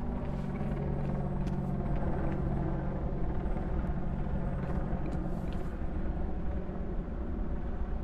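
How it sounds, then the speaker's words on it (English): Steady low droning rumble of a helicopter or propeller aircraft in the game INFRA, constant and fairly loud throughout with no talk over it. "I immediately started hearing like a helicopter or a plane or something the moment I pressed that"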